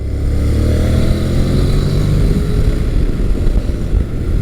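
Adventure motorcycle engine revving hard on a test ride, a loud, close, continuous droning roar with rising pitch and throbbing low rumble, plus wind buffeting throughout, with no voices.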